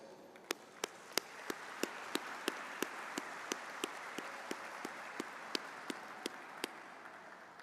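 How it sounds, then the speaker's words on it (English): Sparse, spaced claps ring out at a graduation-style ceremony honoring award-winning students, a steady run of distinct hand claps over a quiet hall background. "I encourage you to join me in a round of applause for our meritorious academic award-winning students."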